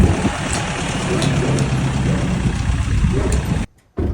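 A heavy truck engine rumbles steadily close by, a low continuous idle that drops out briefly near the end before resuming.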